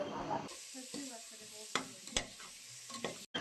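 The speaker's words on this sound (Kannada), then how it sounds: "ಶುಂಠಿ ಬೆಳ್ಳುಳ್ಳಿ ಪೇಸ್ಟನ್ನು ಹಾಕಿ ಹಸಿ ವಾಸನೆ ಹೋಗುವ ಹಾಗೆ ಹುರಿದುಕೊಳ್ಳಬೇಕು" Ginger garlic paste fries in a pan for vegetable pulao, a steady close sizzle that jumps in suddenly, broken by a few sharp scrapes and clinks of a stirring spoon.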